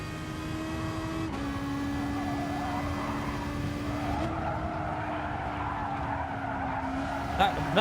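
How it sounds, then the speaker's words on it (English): A Lamborghini slides through corners in the GT Sport racing game. Its tires squeal loudly and continuously over a steady engine drone, with the pitch shifting a few times. "That Lamborghini keeps sliding through the corners."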